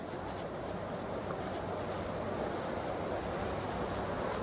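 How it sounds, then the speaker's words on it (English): Waterfall on a weekend trip in Oregon, a steady broadband rush of falling water filling the whole stretch at a constant, moderately distant level with no pauses. "I hear more water, guys."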